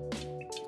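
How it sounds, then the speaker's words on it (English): Water is added to a pot of cooking Haitian-style okra soup with crab, heard as a quick close splash and drip followed by a second wet squish, under a steady electrical hum, with no talking. "add a little bit of water"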